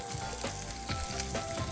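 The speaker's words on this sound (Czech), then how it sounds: "dám do pánvičky a na tom másle orestuju mrkev" Carrot, root parsley and pickles sauté in butter in a pan, giving a steady, close sizzle and crackle throughout with no voices.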